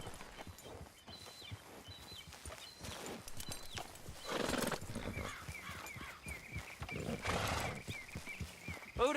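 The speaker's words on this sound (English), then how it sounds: "Grab your horse and let's go." A horse in Red Dead Redemption 2 gallops along a beach with rhythmic clip-clop hoofbeats, snorts and a whinny, set against a busy ambient game background.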